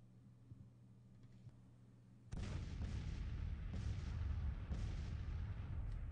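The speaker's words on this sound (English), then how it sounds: "So our rifled artillery should be able to hit them quite nicely." Rifled artillery fires in Grand Tactician: The Civil War, a real-time strategy game: a dense, rumbling barrage of booms begins after a quiet stretch, with distinct sharp reports landing over a continuous low roar.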